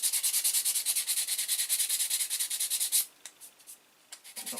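A copied hard fishing lure is sanded by hand with sandpaper in fast, even back-and-forth strokes close to the microphone, then the rubbing stops and a few light scrapes and handling sounds follow.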